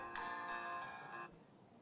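A WhatsApp call ringtone plays as a bright tonal chime for about a second, moderately loud and alone, before cutting off into quiet.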